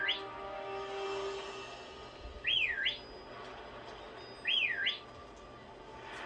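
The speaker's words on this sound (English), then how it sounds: "You have to whistle." Whistling in the video game Pokemon Shield to open a door, heard as two short rising-and-falling whistled calls a couple of seconds apart, over quiet game ambience with a faint tone at the start.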